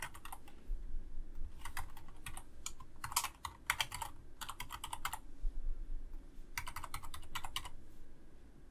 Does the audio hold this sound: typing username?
yes